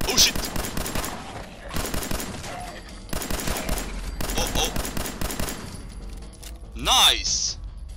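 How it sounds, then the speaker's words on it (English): Rapid pistol shots crack in quick successive bursts in the video game Fallout 4, loud and close with short pauses between volleys, ending in a rising electronic whine; a player talks at moments over the action. "I love this pistol. So rapid."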